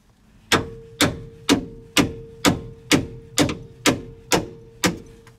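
Hard, evenly spaced knocks as a wedged car seat is banged free inside a Honda Element, ten sharp thuds about half a second apart, close and loud with quiet gaps between.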